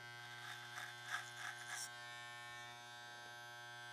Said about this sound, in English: We have to switch to a smaller finishing comb and our trimmer